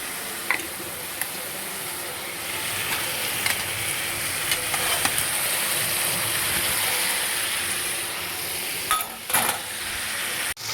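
Potatoes and onions go into chicken frying in a pan, giving a steady sizzle with scattered clinks and scrapes of a utensil against the pan, and no talking.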